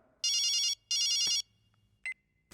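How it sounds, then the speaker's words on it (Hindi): A mobile phone rings with two loud electronic ring bursts in quick succession, followed by a short beep and a click. It sounds indoors in a quiet room, with no one talking. "किसका फोन बज रहा है?"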